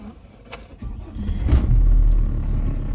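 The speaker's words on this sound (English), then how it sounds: "Don't worry, the car started." A 30-year-old Volvo 850's engine cranks and catches, a low rumble building over about three seconds into a steady, loud idle, close by with no talk.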